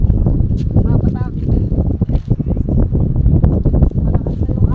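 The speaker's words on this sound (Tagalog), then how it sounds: "Malakas na yung hangin." Strong wind buffets the microphone in heavy, continuous rumbling gusts at a beach in El Nido, Palawan as rain begins, with faint voices talking beneath the noise.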